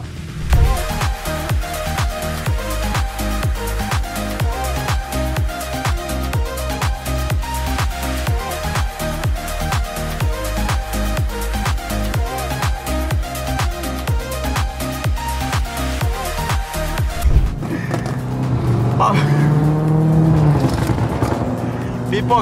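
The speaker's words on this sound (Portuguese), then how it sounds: "A Urus está estalando" A Lamborghini Urus in heavy, rainy traffic gives off a rapid rhythmic exhaust crackle and popping burble that runs loud and steady, then cuts to a lower engine drone and road noise at the end.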